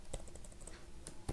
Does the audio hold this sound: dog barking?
no